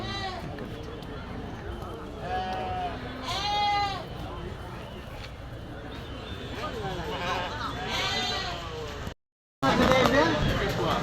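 Lambs bleat repeatedly at the Tuesday goat and sheep market in the Kadiri market yard, several sharp, wavering cries close by amid people talking and crowd bustle, with a brief cut near the end.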